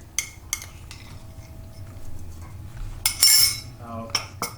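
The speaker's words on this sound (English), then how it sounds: "So it's just mixed together until the ingredients are incorporated together." Chakli dough ingredients with sesame seeds are mixed in a bowl, giving close, irregular scrapes and clinks of a utensil against the dish, with a louder rattling burst partway through.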